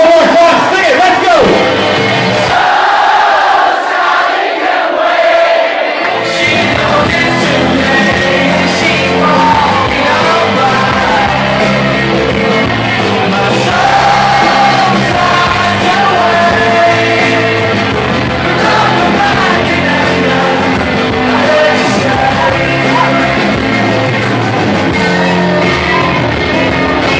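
A dense crowd at an Easter event at the Burn in Lurgan keeps up loud, sustained singing, yelling and cheering throughout with no break.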